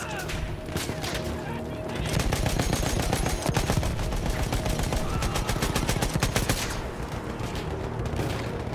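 Sustained video game gunfire with rapid automatic bursts, loud and near, going on for several seconds with short pauses. Faint game noise sits underneath.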